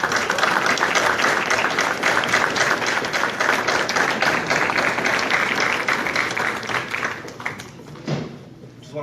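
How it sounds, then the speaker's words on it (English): Audience at a Cudahy city council meeting giving a round of applause, dense sustained clapping that thins and fades toward the end. "Please join me, give him a round of applause."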